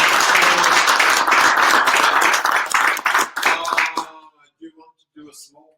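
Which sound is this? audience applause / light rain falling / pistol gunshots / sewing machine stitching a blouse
audience applause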